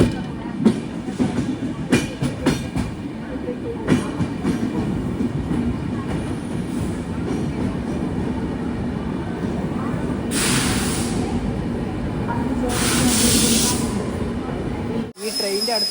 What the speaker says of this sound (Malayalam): ട്രെയിൻ ഇപ്പോൾ ലോണാവാല റെയിൽവേ സ്റ്റേഷനിലേക്ക് എത്തിയിരിക്കുകയാണ്.